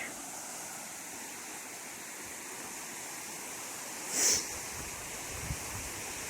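A creek flows beside a hiking trail on the Foothills Trail, giving a soft, steady wash of running water heard at a distance, with a brief faint rustle partway through.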